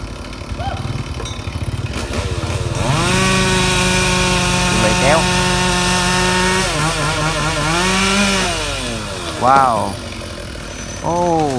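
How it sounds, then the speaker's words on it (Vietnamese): A chainsaw cuts down a tree branch, idling and then revving to a loud, sustained whine that drops and surges as it bites through the wood, with people talking over it and a final quick rev. "anh cưa nguyên nhánh nó xuống luôn mọi người."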